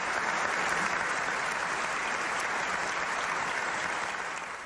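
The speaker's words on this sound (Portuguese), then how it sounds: "O agradecimento vem em forma de aplausos demorados" A long stretch of audience applause rolls on steadily, a dense wash of many hands clapping at moderate level that thins slightly toward the end.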